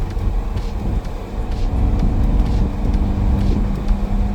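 Engine of a small Peugeot fitted with a cold air induction kit, a low rumbling drone with intake noise swelling and easing over several seconds, close and fairly loud, no speech.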